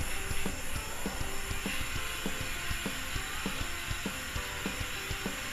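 Fried dry fruits are stirred into a thick jaggery carrot halwa in a pan, a spoon scraping in a regular rhythm of soft clicks over a faint continuous hiss from the cooking mixture.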